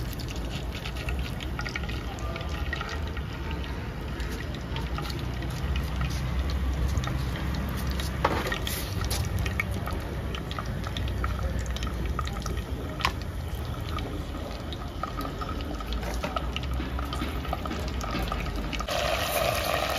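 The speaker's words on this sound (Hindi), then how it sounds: "ऑयल भी गर्म हो चुका है अब इसके अंदर हम लोग डाल रहे हैं जिंजर गार्लिक पेस्ट" Ginger garlic paste sizzling in hot oil over a village cooking fire, a steady dense frying hiss that lasts throughout with small crackles and pops, outdoors with no talk.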